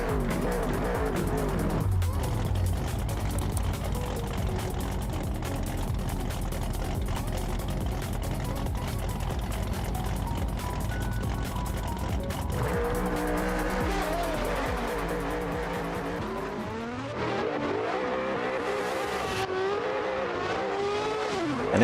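Drift car at Ferropolis revs hard with screeching tire squeal, its engine droning loud and close, joined by a second car's howl as the battle unfolds, with a commentator talking over it.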